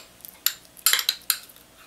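A utensil clinks and scrapes against a bowl in a few quick, bright strokes while a tilapia marinade of celery, peppers, spices, salt, garlic and honey is mixed, close and without talk.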